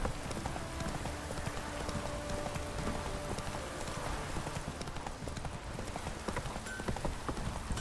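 Roach, the horse in the video game Witcher 3, clip-clops along in a steady rhythmic trot, hoofbeats clear and continuous at moderate distance, with light rain-like patter in the background.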